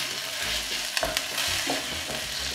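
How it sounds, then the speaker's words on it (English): Corned beef fries in a pan and is stirred, a soft continuous sizzle close by, punctuated by a few scraping knocks of the spoon against the pan. "So we just wanna continue stirring so that it doesn't stick to the bottom of the pan"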